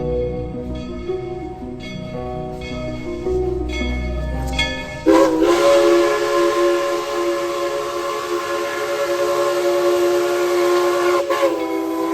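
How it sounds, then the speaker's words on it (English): Tweetsie Railroad steam locomotive No. 190 blasts its whistle loud and sustained, a long steady chord-like tone over rumbling train noise, following quieter whistle notes and engine sounds. "Whistling proudly, 190 and her train returned to town"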